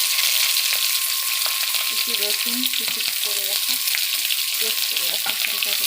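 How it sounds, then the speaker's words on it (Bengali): Panch phoron, raw onion and green chili crackle loudly in hot oil as a tempering for a hilsa curry, a strong constant sizzle close up, with a voice faintly heard underneath. "এদিকে ফোড়ন দেওয়া হচ্ছে, এদিকে কচুরলতি রান্না হবে। পাঁচফোড়ন, কাঁচা পেঁয়াজ, কাঁচা লঙ্কা দিয়ে দাও।"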